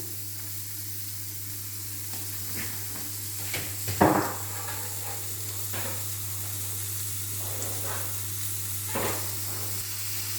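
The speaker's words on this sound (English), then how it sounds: "So keep the pan on, okay, because look at the juices from the paprika and the beef." Beef with paprika sizzles in a pan in a faint, steady hiss, with a brief clatter of stirring partway through and a few softer scrapes later.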